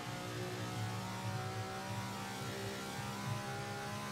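Steady, loud drone of a Ferrari engine held at high revs while driving in the Assetto Corsa racing game, close and continuous with no voices.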